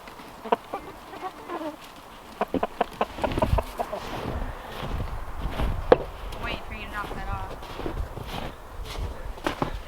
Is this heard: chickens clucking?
yes